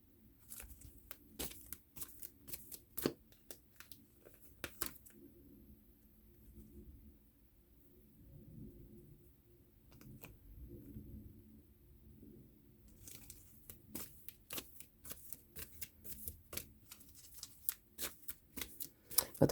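A deck of tarot cards being shuffled for a reading, with bursts of crisp riffling at the start and end and a quieter stretch between, close and soft, no talking.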